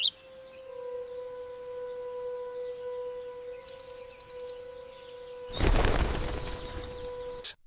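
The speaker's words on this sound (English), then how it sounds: "Garden birds are not just chirping at random." Small birds chirp in a quick rapid series, with a steady tonal hum underneath and a brief rustling burst near the end.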